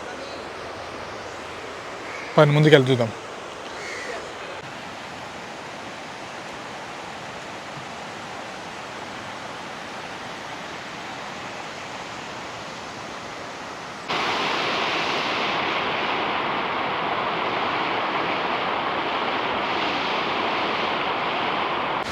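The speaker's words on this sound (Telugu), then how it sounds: "సౌండ్ వినిపిస్తుందా మీకు వాటర్ది?" Water flowing between small hills in Araku valley during the monsoon, a steady broadband rush that grows louder partway through, with a brief voice early on.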